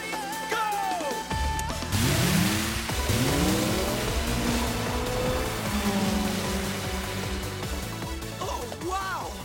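A race car accelerates hard off the start line in an anime street race, engine roaring loud and close with rising gear-change sweeps, a dense continuous drone over about nine seconds.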